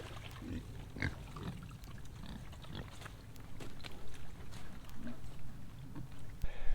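Farm pigs grunt and snort close by in a busy, irregular run of oinks, with occasional clatters and a faint trickle of water under the grunting.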